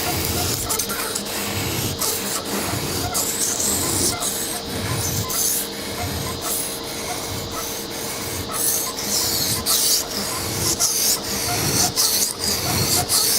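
A kitchen knife is rubbed back and forth on a whetstone to raise a burr, giving a rhythmic, gritty scraping stroke every second or so, fairly close and steady, with no talk.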